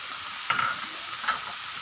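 Onion and garlic hitting hot oil in a pan while cooking Bicol Express, a steady sizzle with two brief scraping stirs, close and alone.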